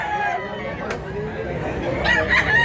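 Chickens and roosters at a busy market in Mantalungon, Cebu, with crowing and clucking rising over a steady crowd murmur and people talking nearby.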